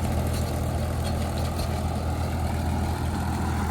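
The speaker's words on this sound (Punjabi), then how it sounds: "275 ਰੂਟਾਵੇਟਰ ਹੈਗਾ 7 ਫੁੱਟਾ ਜੀ ਦੇਖੋ ਮਿੱਟੀ ਕਿਵੇਂ ਘੋਲਦਾ ਹੁੰਦਾ" A Mahindra 275 DI tractor pulling a 7-foot rotavator through soil rumbles steadily at close range, a constant low drone with no pauses and no voices.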